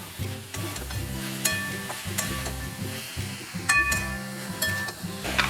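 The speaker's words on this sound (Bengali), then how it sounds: "এখন মশলাটার সাথে ভালো করে এটাকে নাড়াচাড়া দিয়ে মিশিয়ে নেব।" Taro stolons being stirred into masala in a hot pan: steady close sizzling with repeated scraping strokes of a spoon and occasional light clinks of utensil against metal, no talking.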